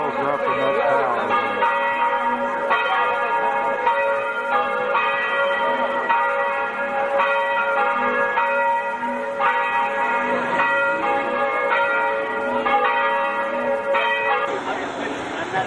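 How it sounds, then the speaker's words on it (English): Church bells ring from bell towers in Italy, struck in a steady repeating pattern with long ringing tones, moderately distant and clear, with a faint voice briefly present. "I guess you can hear the bells ringing over there."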